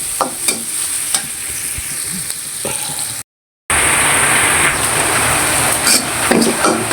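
Food frying in a pan while cooking koi fish curry with potato, lentil dumplings and eggplant, a loud close sizzle with scraping stirs throughout, broken by a brief silent gap.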